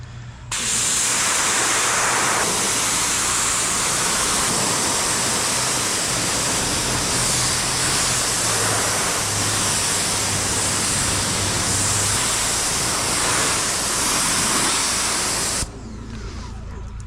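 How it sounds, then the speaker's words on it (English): Water from a hose or pressure rinse spraying across a car's coated paint, starting on the roof during a maintenance wash, a steady loud hiss and splash that runs unbroken for about fifteen seconds before cutting off. "So now we're going to start rinsing the paint. This is the initial rinse."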